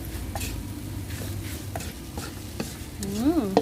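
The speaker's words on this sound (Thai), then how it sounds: "แล้วก็ผัดต่อให้น้ำตาลละลายดีก็ถือว่าใช้ได้แล้วค่ะ" Thai chili paste is stir-fried with sugar in a pan, with a spatula scraping and stirring over a soft, steady sizzle, and a brief wavering tone near the end.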